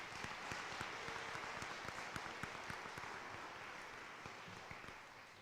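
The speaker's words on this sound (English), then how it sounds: "Let's give all these guys a round of applause right there." An audience gives a round of applause for senior football players, a steady patter of many hands clapping at moderate distance, fairly quiet and easing slightly toward the end.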